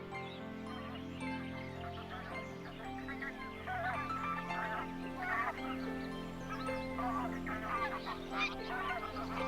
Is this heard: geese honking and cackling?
yes